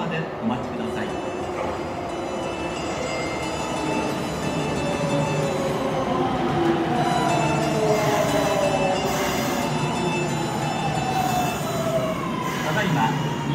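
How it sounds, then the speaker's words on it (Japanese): A Kyoto Municipal Subway Karasuma Line train pulls into a platform, its rising electric motor whine and rolling rumble steady and loud for the whole stretch, with faint platform announcements and a chime-like tone over it. "ただいま2番乗り場に到着の電車は国際会館行きでございます。"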